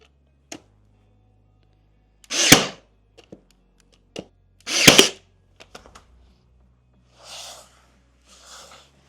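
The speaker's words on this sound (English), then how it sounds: "So I'm just going to nail that in position." A nail gun fires trim into place during a DIY kitchen makeover, with two sharp pneumatic bangs and hissing bursts among small clicks and taps, then softer air puffs, close and otherwise quiet.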